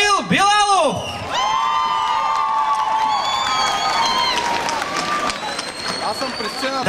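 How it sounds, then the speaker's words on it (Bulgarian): At a Christmas lights ceremony in Burgas, a crowd cheers and whoops with some applause for an actor, loud and lively, alongside shouting voices. "Дами и господа, вашите аплодисменти"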